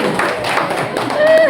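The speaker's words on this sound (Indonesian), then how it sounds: "kasih tepuk tangan ke dulu mereka berdua" A group claps for two participants at a school-culture workshop, a steady, dense round of applause close by.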